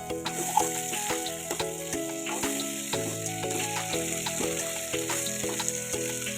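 Chopped tomatoes sizzle and crackle in hot oil in a kadai throughout, a steady frying hiss with scattered pops and faint clinks of utensils.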